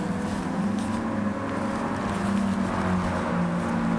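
Old cars racing on an old-timer track in a Gran Turismo 7 replay, with a steady engine drone and overlapping motor tones that hold a constant mid-level loudness for a few seconds.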